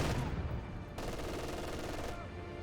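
MG42 machine gun fire in the Company of Heroes 2 video game, a dense, fast stream of gunfire mixed with battle noise, loud and continuous, with a faint voice underneath.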